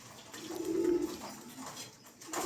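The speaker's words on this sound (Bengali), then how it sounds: "খুবই চমৎকার কবুতরগুলো" Pigeons of a fancy show breed coo softly in a low murmuring call, fairly faint and close, with no talking over it.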